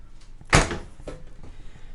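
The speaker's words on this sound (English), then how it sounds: "Opening this up, you've got a large full electric fridge freezer combo." A large electric fridge-freezer door swinging open inside a 2026 Vista Cruiser 23FBS travel trailer, with one sharp thump followed by a softer knock and faint rattles.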